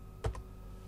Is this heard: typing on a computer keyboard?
yes